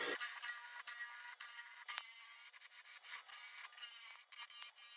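A wood lathe spinning a bowl blank at about 1,000 RPM while a tool cuts it, with the tenon already removed and the piece slightly out of round, makes a steady close rasping, rubbing scrape broken by brief pauses and no voices.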